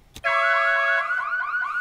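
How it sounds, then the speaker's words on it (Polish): An alarm goes off in a 3v3 Rainbow Six Siege match, a loud electronic wail with warbling tones that starts abruptly after a brief thud and holds steady, with no talk over it. "To się alarm zrobił."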